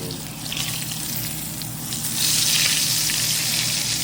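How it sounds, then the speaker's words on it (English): Grease sizzles and crackles steadily in a pan as fish fries, a dense hiss that grows louder partway through and continues without talk. "Let that grease popping a bit."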